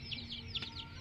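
Chickens kept on a rice farm with a fishpond, making soft repeated high calls about four times in a second, faint against steady background hum.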